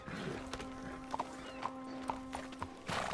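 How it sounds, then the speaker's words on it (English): Horse hooves clip-clop at a steady walking pace in the video game Red Dead Redemption 2, against a low background hum, moderately close and fairly quiet. "You got a horse? Get on it."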